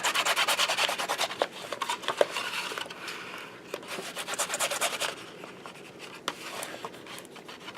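Bone folder rubbed firmly along the creases of a handmade paper card box for A2 cards, close-up scraping strokes in rhythmic bursts with short pauses between them.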